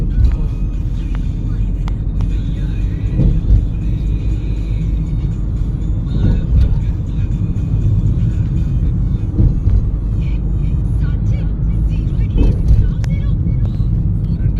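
A car in a driving lesson, working up to 25–30 speed before a shift into fourth gear, gives a steady low engine rumble for the whole stretch, with an instructor's voice talking over it.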